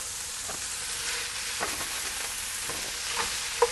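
Ground meat for a Marcella Hazan rigatoni bolognese frying in a pan, a steady soft sizzle with occasional scraping stir strokes and a sharper click near the end, no voices.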